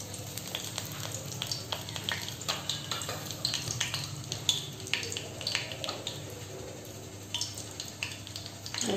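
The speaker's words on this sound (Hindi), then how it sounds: "अब इसमें मैं डालूंगी तेज पत्ता।" A bay leaf sizzles in hot mustard oil in a pan, giving a steady close crackle and fizz with small pops throughout and faint clinks of utensils.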